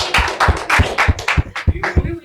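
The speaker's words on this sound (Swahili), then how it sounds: "munipige na mimi makofi." An audience claps in a quick, steady rhythm, loud and close, with a low thud under each beat and voices mixed in.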